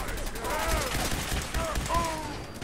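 Gunfire in Fallout 4 during a firefight with synths, a short automatic rifle crackling in a dense, continuous fusillade of overlapping shots, with a voice talking over it.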